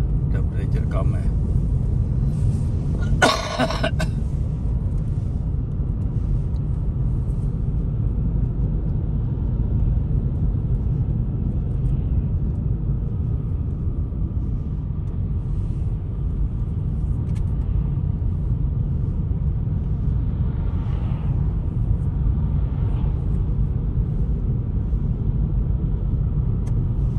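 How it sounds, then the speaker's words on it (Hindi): Road traffic in Oslo at the start of the snowy winter season, around 4 pm rush hour, makes a continuous low rumble of passing cars, with voices heard over the steady drone. "ट्रैफिक भी ज़्यादा हो जाती है।"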